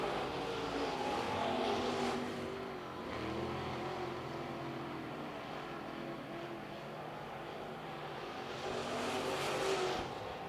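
Late model stock cars race at Carolina Speedway, engines roaring at a distance with rising and falling swells as packs of cars sweep past, loudest near the start and again at the end.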